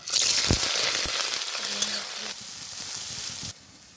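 Onion, garlic, dried chili, cinnamon and cloves sizzle loudly in hot oil, with a few scraping stirs; the sizzle fades in steps toward the end.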